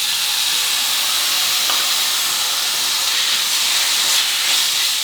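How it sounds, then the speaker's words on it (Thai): Minced pork stir-frying in a hot pan with a splash of water added gives a loud, steady steam hiss and sizzle close by, continuous throughout, with no talk. "ผัดยียีให้หมูกระจายตัวดีเลยครับ หยอดน้ำลงไปเพิ่มเล็กน้อยได้ครับ"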